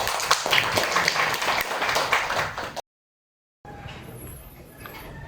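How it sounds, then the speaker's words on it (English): Applause at a primary school graduation ceremony welcoming a guest speaker, a registered nurse; dense clapping runs for about three seconds, breaks into silence, then returns as fainter room sound with a thin high tone. "A round of applause for him,"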